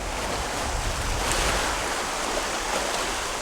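Surf rolls onto a beach in Costa Rica, a loud, continuous wash of breaking waves with a faint swell around the middle and no talking.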